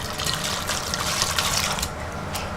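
Water poured steadily into a bowl of flour, salt and black pepper for a thin kebab batter, a close continuous splashing trickle with no talk over it.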